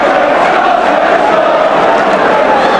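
Football crowd at an Arsenal versus Manchester City match in the early 1980s, a steady loud roar of many voices filling the stadium throughout, with no letup.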